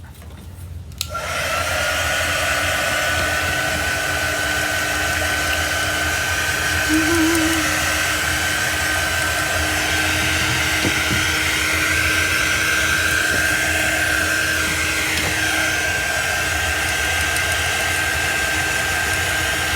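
A hair dryer blows steadily on a chalk ink transfer, a loud, continuous close whir with a faint tonal whine that starts abruptly and runs unbroken.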